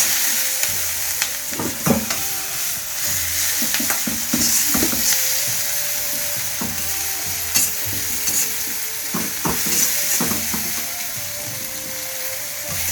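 Spring onions are stir-fried into Schezwan fried rice over a high flame, giving a loud, continuous sizzle broken by repeated sharp scrapes and clinks of a spatula against the pan, close up with no talking.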